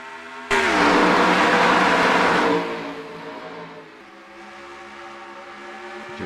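Stock cars at Charlotte Motor Speedway in Concord, North Carolina, roar up at the green flag with a sudden loud burst of engine noise. The noise holds for about two seconds, then eases into a steadier, fainter drone of the pack moving away.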